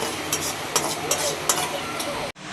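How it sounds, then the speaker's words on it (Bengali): Cumin seeds dry-roasting in a pan, with steady soft crackle and a scraping stir returning every half second or so, cut off abruptly near the end. "এখন জিরা টেলে নিচ্ছি"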